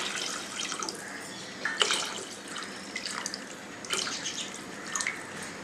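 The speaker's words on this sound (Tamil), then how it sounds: "இப்போ தேவையான அளவு தண்ணியில் சேர்த்துக்குவோம்." Water poured into a pot of tamarind pepper rasam, a steady close splashing and trickling stream with a few brighter gurgling bursts, no voices.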